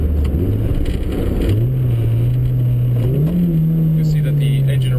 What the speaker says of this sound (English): you'll see that the engine revs up much quicker